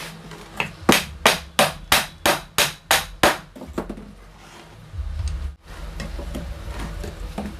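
A hammer strikes a rusted nut and bolt in a quick, steady run of about nine sharp metallic blows, close and loud, followed by low rumbling handling noise.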